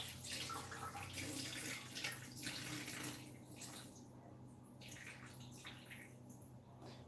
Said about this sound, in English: I'm just going to give it one more quick rinse, a little shuffle like that